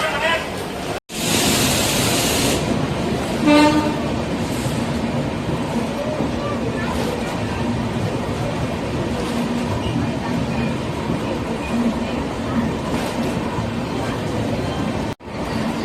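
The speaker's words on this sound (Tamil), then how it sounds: "ஷார்ப்பாக 7:25க்கு நம்ம ட்ரெயின் மதுரை ஜங்ஷன்லேருந்து டிபார்ட் ஆயிடுச்சுங்க." Madurai–Sengottai passenger train pulling out of Madurai Junction, a loud continuous rumble and rattle of the carriages with a short hiss and brief clanks early on, recorded from inside the train.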